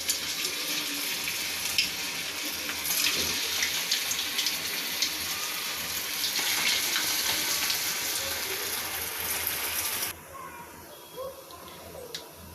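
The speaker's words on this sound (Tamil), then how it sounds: "இப்போ 1 by 1 போட்டு ஃப்ரை பண்ணிடலாம்." Veg manchurian balls deep-fry in hot oil in a kadai, giving a steady, loud hiss and crackle that swells midway and then eases to a quieter bubbling near the end.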